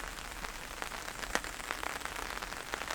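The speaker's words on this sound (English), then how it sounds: "It started to rain a little bit again." Light rain falls on a camping tarp outdoors, a soft steady hiss broken by scattered sharper drop taps.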